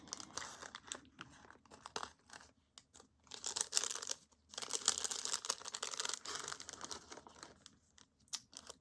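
A glassine bag crinkles as it is handled, in close, irregular bursts of papery rustling separated by brief quiet gaps.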